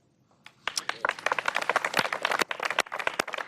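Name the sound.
applause for the new cabinet members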